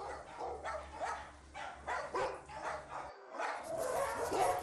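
A five-year-old Bouvier dog at an animal shelter gives a run of short, fairly loud barks and yips in quick succession, with a low background hum and some faint voices around.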